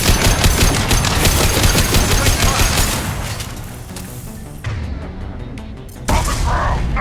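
Shotgun fire in the video game Mass Effect 2 comes as a dense burst of loud, rapid blasts over combat noise, thinning into scattered shots and rumble before another sharp volley near the end.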